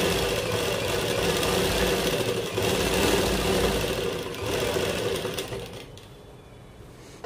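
A sewing machine runs steadily stitching lace trim on a plain-fabric kurta, a continuous whirring hum that dips briefly and fades out near the end, with no talking.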